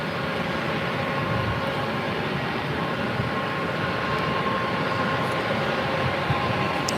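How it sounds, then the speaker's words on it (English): A Delta Boeing 767 jet at LAX roars loudly and steadily, a dense broadband rumble holding at full strength throughout with no talk over it. "there's a Delta 767, second in line, loud"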